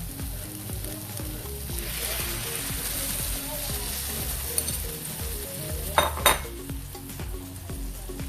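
Marinade for pork liver steak is poured into a hot pan of frying pork liver, giving a steady loud sizzle with clinks of a utensil against the pan and a brief sharper splash-like burst near the end.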